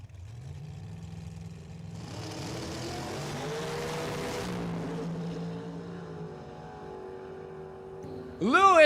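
A 1956 Chevy Shoebox and a Pontiac make a drag race run, engines building into a loud sustained roar that rises, peaks and fades, then a sharp new revving burst near the end.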